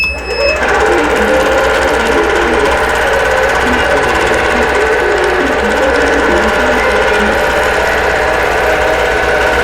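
A quilting sewing machine runs in manual mode, stitching with a loud, steady, rapid mechanical whir and hum that stays close and continuous throughout, with no voices.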